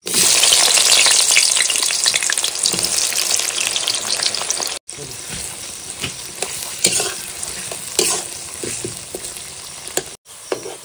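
Loud, crackling sizzle of onions frying in hot mustard oil until lightly browned for hilsa biryani, with scraping and stirring sounds; the intensity eases partway through.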